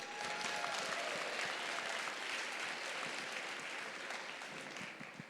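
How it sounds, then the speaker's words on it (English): A large crowd claps steadily through the opening ceremonies of a robotics district event in Midland, a dense, even wash of applause that fades slightly toward the end. "Can we give them a round of applause as well?"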